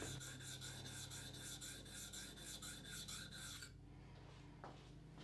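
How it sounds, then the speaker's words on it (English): A plane blade's back is rubbed on a sharpening stone to remove the burr, a close, steady rasping scrape in even back-and-forth strokes, stopping after a few seconds, with nobody talking. "Now I'm going to take the stone out of the sharpener and rub off the burr on the back."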